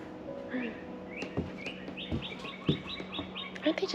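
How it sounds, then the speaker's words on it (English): Small birds chirp and tweet outdoors on a cold, clear day in a North Georgia garden, with scattered short high calls repeating over faint background noise and soft rustling. "pretty birds"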